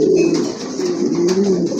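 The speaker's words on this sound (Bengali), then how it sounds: "এই যে দেখেন কবুতর ডাকে কেমনি, মাশাআল্লাহ অনেক ভালো ডাকে।" A male pigeon coos close by, a single warm, throaty rolling call that carries on steadily for nearly two seconds with no other sounds over it.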